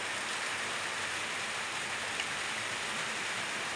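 Steady rain falling around a house with a balcony in the Philippines, a constant hiss of fairly gentle but even downpour with no voices.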